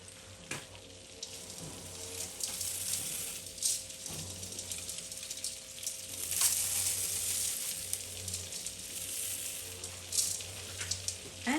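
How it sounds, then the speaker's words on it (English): Vermicelli frying in melted butter gives a soft, continuous sizzle with intermittent scraping and stirring clicks from the pan, fairly quiet and close, without any voices. "we're gonna fry this, or we're gonna parch it until some of them have that dark brown color"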